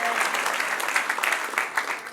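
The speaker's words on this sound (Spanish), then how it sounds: "si lo van a aplaudir, apláudanle de verdad" Church congregation applauding during a Spanish-language sermon, dense rapid clapping from many hands close by, steady for a couple of seconds with faint voices mixed in.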